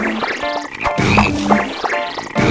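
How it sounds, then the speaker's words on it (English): Several cartoonish frogs croak in quick succession in the video game BattleBlock Theater, loud and close, with bouncy repeated croaks overlapping in a busy burst. "Way too many frogs."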